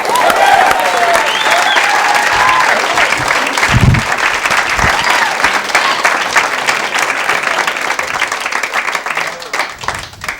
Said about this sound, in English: Please, a nice round of applause, Mr. Chris Sheeno.